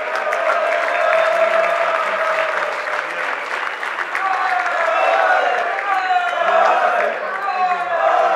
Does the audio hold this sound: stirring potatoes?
no